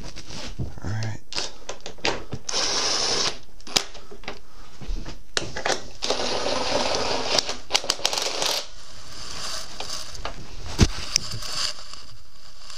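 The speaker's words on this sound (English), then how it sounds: "we're gonna go ahead and bolt the subframe in place." Bolting the subframe onto a 2007 Yamaha YZ450F motorcycle: a busy run of close metallic clicks, ratcheting and taps, with a few sharper knocks toward the end.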